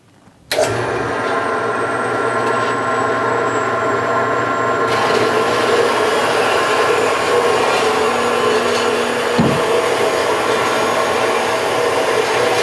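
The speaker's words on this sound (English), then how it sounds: "Okay, let's go over to the saw and cut this off." A power saw starts up and cuts metal bar stock for a toolpost grinder spindle housing, with coolant in use, giving a loud, steady, sustained whine with a faint high tone at the start and a brief dip near the end.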